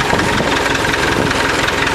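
A Massey 65 diesel tractor engine runs loud and steady at close range while grading gravel on a driveway, with a continuous rough, knocking diesel drone and no break.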